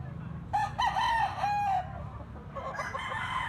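A young stag rooster crows once, loud and close, a broken rising call that holds a long final note, with farmyard murmur and a faint voice in the background after.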